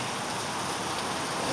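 Rain falling steadily outdoors, a soft continuous hiss of drops that stays even from start to finish, with no talk over it.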